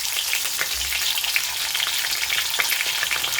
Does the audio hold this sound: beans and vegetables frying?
yes